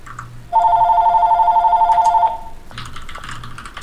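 A phone rings in the video game Crisis Core: Final Fantasy VII. The ringtone is a loud, steady electronic trill that lasts about two seconds and then stops, and faint game sounds continue underneath.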